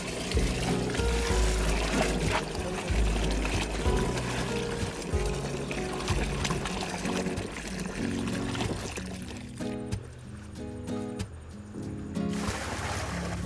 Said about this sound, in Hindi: ये अरंडी का तेल डाल रहे हैं अब हम इसमें